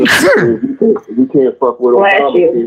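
A single sharp sneeze bursts out at the very start, quickly followed by a person talking steadily over it.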